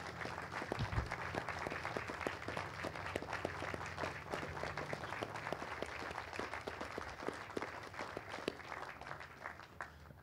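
Applause from a Memorial Day crowd honouring Vietnam veterans, fairly quiet and distant, with individual claps standing out as sharp ticks over a low rumbling hall background.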